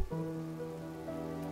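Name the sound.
heavy rain falling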